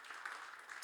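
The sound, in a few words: church youth congregation applauding the choir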